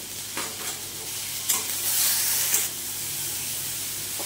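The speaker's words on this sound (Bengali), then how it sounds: "আর দেব কাশ্মীরি লঙ্কার গুঁড়ো। এইবার এটাকে একটু কষে নেব।" Spices with Kashmiri chili powder sautéed in a pan for a Bengali moog dal dish, a loud continuous hiss and sizzle with a few stirring scrapes, the frying swelling briefly midway.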